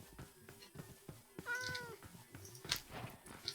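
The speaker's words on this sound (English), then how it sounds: "I have a cat. And it's a tabby." A tabby cat in Minecraft gives a couple of short, clear meows around the middle and end, rising and falling in pitch over soft game ambience and footstep-like taps.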